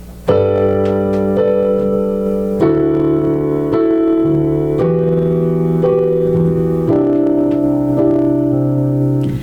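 Sustained piano chords with a low bass note ring out in sequence, each held for a second or two before the next is struck.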